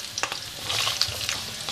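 Peeled, chopped carrots added to a pan with chicken thighs and stirred, a steady close sizzle of frying broken by scraping stirs and light clinks, with no talk.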